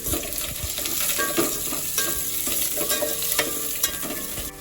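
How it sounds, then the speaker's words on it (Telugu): Curry leaves, coriander and mint fried and stirred in a pan for Telangana bagara rice: a steady loud sizzle with repeated scraping clicks of a spoon, close and continuous, no voices. "కరివేపాకు కొద్దిగా కొత్తిమీర పుదీనా రెండు కలిపి వేసేస్తున్నాం ఇప్పుడు బాగా మిక్స్ చేస్తున్నాం"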